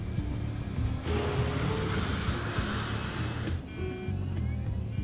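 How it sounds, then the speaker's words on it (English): Roaring aircraft engines build during takeoff, a loud, harsh and crackling continuous noise that swells and then eases slightly. "It's a very noisy engine with a particularly nasty crackle to it."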